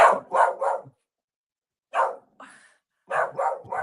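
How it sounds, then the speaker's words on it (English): A dog barks in quick bursts of three, falls quiet, gives a lone bark and a short whine, then barks in another rapid run, close by. "My dog is starting."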